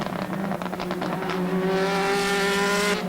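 Renault 21 Superproduction race cars racing at the Castellet circuit in 1988, engines howling past with rising and falling revs, a throaty roar building into a high, strained whine, loud and close.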